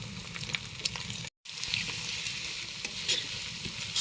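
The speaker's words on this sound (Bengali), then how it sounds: "এর সাথে পেঁয়াজ, রসুন আর কাঁচামরিচ দিয়ে ভাজতে থাকবো।" Onion, garlic and green chili fry in a pan while being stirred, a steady dense sizzle with scattered scraping clicks, close and fairly loud, broken by one brief silent gap.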